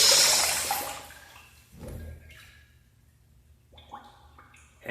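A urinal, freshly refitted on an off-center, crooked flange after a leak repair, flushes with a loud rushing surge of water that quickly tapers into softer trickling and gurgling refill sounds.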